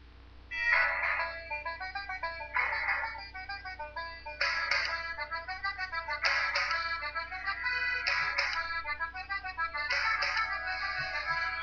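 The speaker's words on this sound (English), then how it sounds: "my alarm that goes off" A phone alarm ringtone plays a house music track, with bright synth stabs repeating in a steady dance rhythm. It is loud and close, and it runs on its own throughout with no talk over it.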